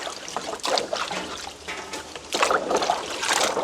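Peeled palmyra sprout tubers are washed in water outdoors in a village, giving a close, continuous sloshing and trickling that swells in louder splashes near the end.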